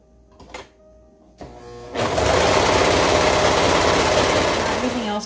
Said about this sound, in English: I'm just getting a nice serged edge for the bottom here to make hemming just a smidge easier.